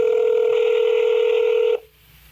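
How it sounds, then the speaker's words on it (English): A steady telephone dialing tone holds loud and clear, then cuts off abruptly, leaving a faint line hiss just before a call goes through. "here's the phone call."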